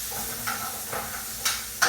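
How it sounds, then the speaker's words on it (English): Onions dropped into a still-hot pan with meat drippings for a mock cassoulet, giving a steady broad sizzle with a few sharper bursts as pieces hit the fat and get stirred. "I'm going to drop these onions. The pan, of course, is still very hot."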